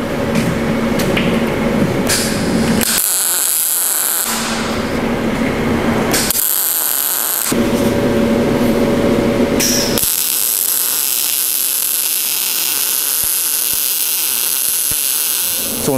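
MIG welding a downhill bead with a YesWelder Firstess MP200: a loud, steady crackling buzz runs in bursts broken by short pauses, then continues unbroken through the end.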